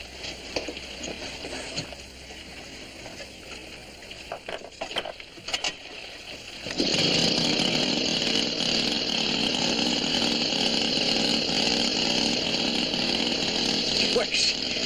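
An air compressor powering a pressure suit starts up partway through and runs as a loud, steady mechanical drone. Before it starts there are scattered handling clatters.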